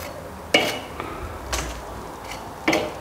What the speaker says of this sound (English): grabbing your favorite set of tongs, giving them a twirl before you get them off the grill